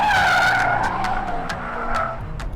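A Porsche Taycan electric car with twin motors, one on each axle, is driven hard on a race track. Its high motor whine rises and falls over steady tyre noise, with sharp bursts of tyre squeal through the corners.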